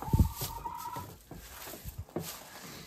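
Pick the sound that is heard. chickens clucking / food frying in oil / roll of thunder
chickens clucking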